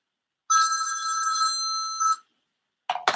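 A telephone rings loudly and close, one long electronic trill of about a second and a half followed by a short burst, then a brief start of another ring after a pause.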